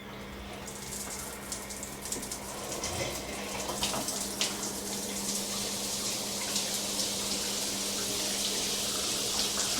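Water runs steadily from a tall hotel shower in a Gothic palace in Venice, a continuous broadband hiss and spatter with a low steady hum beneath, growing slightly fuller as the flow continues.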